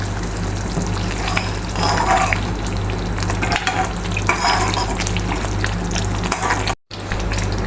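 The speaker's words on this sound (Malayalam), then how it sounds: "ഈ സമയത്ത് നമുക്കൊന്ന് ഇളക്കി കൊടുക്കാം." Raw banana mixture fries steadily in hot oil in a pan and is stirred, a continuous loud sizzle with scraping stir strokes layered over it and a brief cut near the end, with no voices.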